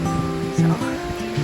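Fish Creek rushes along beside the Lakeshore Trail near Stehekin, Washington, a steady, full wash of flowing water, close and continuous, with some faint tonal murmur mixed in.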